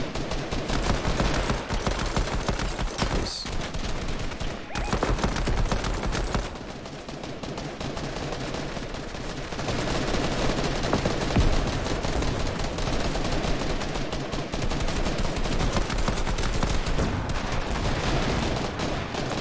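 Rapid pistol fire from Fortnite rattles in dense bursts over a loud, continuous game soundscape, shots clustering in quick volleys with brief lulls, close and aggressive.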